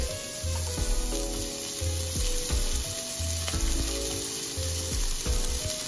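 Shallots and garlic fry in a little oil in a pan, giving a steady close sizzle with occasional stirring scrapes, for a lemon mustard herb butter sauce to be served with fish.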